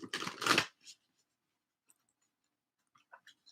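Chakra cards are shuffled close up in a quick papery riffle lasting under a second, followed by a single soft flick and a few faint taps and clicks in an otherwise quiet room.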